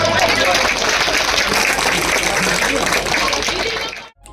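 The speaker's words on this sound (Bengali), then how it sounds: "সবাই জোরে করতালি দিন একবার" Crowd at a political gathering in a village panchayat setting applauding loudly and steadily for about four seconds before it cuts off abruptly.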